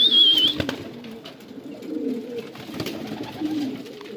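Pigeons or doves cooing repeatedly at close range during a hunt, soft low calls rising and falling steadily through the clip with a few light rustles.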